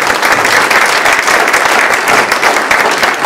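A dense, steady wash of audience applause fills the room at a community comedy magic show, loud and continuous throughout with no voices rising above it.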